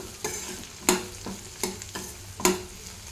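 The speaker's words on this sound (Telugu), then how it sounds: "ఇంకొంచెం ఫ్రై అవ్వాలండి ఇది." Chopped ridge gourd fries in plenty of oil for an egg curry, a soft sizzle punctuated by four or five sharp scraping stirs of a spatula against the pan at a loose rhythm, close and quiet with no talking.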